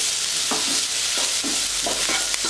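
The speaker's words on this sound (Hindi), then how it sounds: "इसको अच्छी तरह से मिक्स कर लेना है।" Chinese pakoda stuffing seasoned with black pepper is mixed in a pan with a little oil. A loud, steady sizzle runs throughout under rhythmic scraping strokes.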